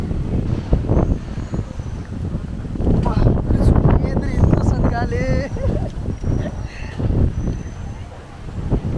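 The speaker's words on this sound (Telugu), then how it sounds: "హెవీ విండ్స్ బ్రో, వాన వాంచేస్తుంది ఈరోజు అయితే." Heavy wind gusts buffet the microphone outdoors at a university campus, a loud continuous rumbling roar that surges and eases throughout, with faint voices mixed in.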